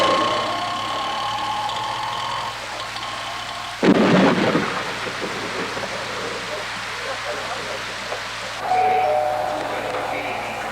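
Steady rain with a sudden crack and rumble of thunder partway through, heard from a sheltered spot with a faint hum underneath.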